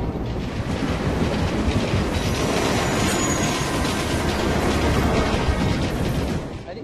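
A loud train rumbling past in the video game Assassin's Creed Unity, with a dense, continuous roar and rattle of wheels that holds steady for several seconds before fading slightly at the end.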